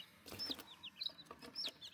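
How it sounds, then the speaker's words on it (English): Baby chicks cluck and chirp close by in short repeated bursts, with a soft rustling background. "Now let's go get our chickens."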